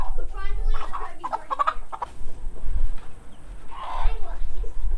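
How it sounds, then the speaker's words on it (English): Chickens cluck and fuss close by as a newly hatched brood of chicks is moved into a brooder, irregular calls rising and falling over handling noise while a person speaks at times. "There's 10 of them in the bucket."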